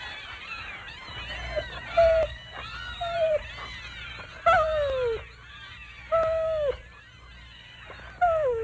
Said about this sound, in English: Look at the baby kittens.